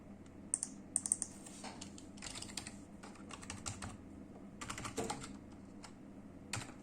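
Computer keyboard keys tapped in quick uneven bursts while Arduino code is typed, close and clear with short pauses between runs of keystrokes and no talking.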